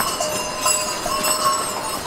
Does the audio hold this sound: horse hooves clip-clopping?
yes